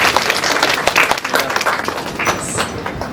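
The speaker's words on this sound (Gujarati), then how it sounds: "તાળીઓ થવી જોઈએ." Audience at a scholarship award event clapping, a dense burst of many hands in a hall, loud and continuous for a few seconds with some voices mixed in.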